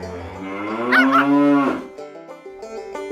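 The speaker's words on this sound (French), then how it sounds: "Anouchka se fait poursuivre par les vaches" A single long, close moo from a cow on a farm, rising and then falling away, loud and clear with little background noise.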